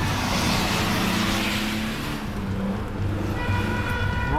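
A stolen gray Jeep accelerates away, its engine roaring in a steady, loud rush with road noise that eases slightly partway through and then holds, with no voices over it.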